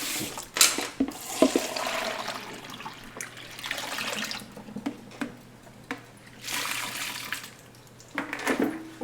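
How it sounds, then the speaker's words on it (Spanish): Water running and splashing into a container as pork is rinsed for red pozole in a home kitchen, coming in uneven bursts of pouring and sloshing at moderate loudness with no voices. "Vamos a agregar más agua,"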